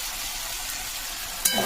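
Curry made with potatoes sizzles and fries in a pan, a steady bright hiss that runs throughout, with a sudden clatter of stirring near the end.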